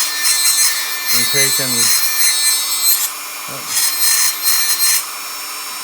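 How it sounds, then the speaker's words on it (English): A high-speed rotary bit grinds down both sides of a Sig Sauer P320 grip module in a close, steady, bright whine that holds for about three seconds, pauses, then returns in shorter bursts. Someone talks briefly over it. "Basically, I'm just taking this high-speed bit"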